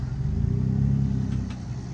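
A modified off-road truck, a ZR2 on 33-inch tires, revs its engine while crawling over rocks, a deep, pulsing rumble that swells and holds, close and loud.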